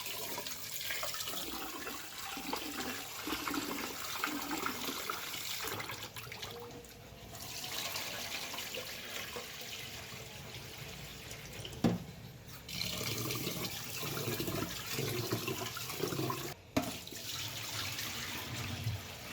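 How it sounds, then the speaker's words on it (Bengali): Rice and lentils being rinsed together in water for vegetable khichuri, a steady run of splashing, sloshing water and tap flow near the mic, continuing for nearly twenty seconds with brief pauses. "এবার চাল ও ডাল প্রথমেই ভালো করে ধুয়ে নিচ্ছি"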